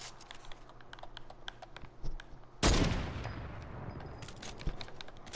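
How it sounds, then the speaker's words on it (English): A single hunting rifle shot in Fortnite cracks loud and sharp, followed by a decaying boom, with soft clicking and tapping in the background before it. "Don't use the freaking hunting rifle."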